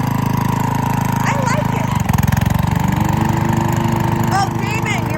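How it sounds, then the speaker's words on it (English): An old tractor engine chugs steadily and loudly from start to finish, its low, even rumble holding under short bursts of people talking nearby. "That's a pretty cool old tractor."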